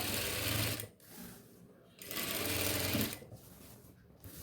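A sewing machine stitches nighty fabric in two steady runs, with a short pause between them and another slowdown near the end. The whirring is close and fairly loud, and nobody speaks.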